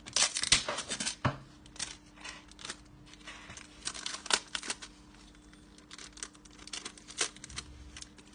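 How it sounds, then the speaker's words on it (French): Adhesive tape pulled and pressed onto the broken screen of a Samsung J7 2017 phone, giving quiet, irregular crinkling and tearing rustles in scattered bursts. "Je mets du scotch."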